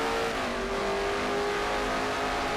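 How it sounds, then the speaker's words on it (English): Race car engine revving hard at full throttle in a stock car racing game, a loud sustained roar with steady harmonic drone and no talk. "And now mashes the throttle on the floor."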